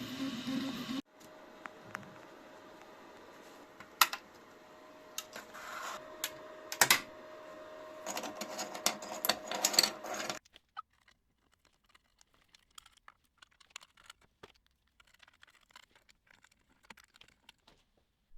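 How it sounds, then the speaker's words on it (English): An FDM 3D printer prints custom-designed mounts for a DIY CNC lathe's control PC, with a close, busy ticking and whirring of stepper motors and a faint steady tone, which stops about ten seconds in, leaving near silence. "3D printing some custom designed mounts for the brain of the machine"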